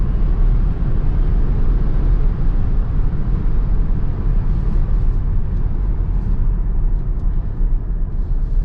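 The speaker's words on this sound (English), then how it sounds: "we'll start off with a little 0 to 60 here. This thing really launches hard." A Tesla Model Y Dual Motor AWD launching hard from 0 to 60, a steady loud low rumble of road and drivetrain noise that holds throughout, with no talking.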